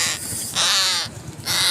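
A crow caws three times in quick succession, harsh and close, each call loud against a quiet background.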